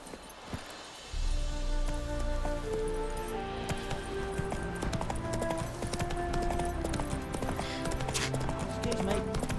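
Roach the horse galloping in The Witcher 3, a quick, steady beat of hooves starting abruptly and continuing near and loud, with jingling tack and outdoor ambience around it.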